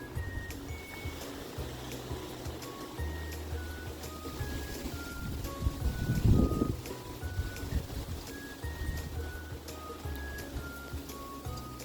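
Wind blows outdoors, a steady low rumble buffeting the microphone that swells into a stronger gust near the middle, with faint high electronic toy tones chiming over it.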